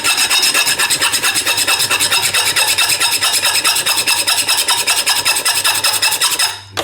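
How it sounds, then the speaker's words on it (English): A file is drawn back and forth across the end of a steel brake line in quick, even strokes. The loud rasping repeats several times a second without a break until it stops near the end. "File it till it's somewhat flat"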